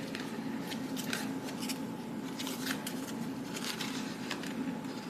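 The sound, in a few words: cutting paper inserts for a mini album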